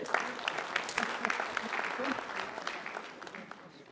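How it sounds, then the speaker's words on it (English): A conference audience applauds at the close of a session, a steady wash of many hands clapping at moderate distance, gradually tapering off, with some voices underneath. "Can you please give me another round of applause?"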